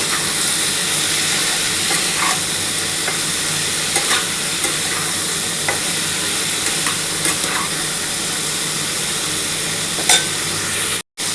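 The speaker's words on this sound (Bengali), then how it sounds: "আগে প্রথমে নুন আর হলুদটা দিয়ে আমি প্রথমে আগে ভেজে নিচ্ছি" Cauliflower and potato frying with salt and turmeric in a pan, with a steady close sizzle running throughout and repeated scraping strokes as the pieces are stirred.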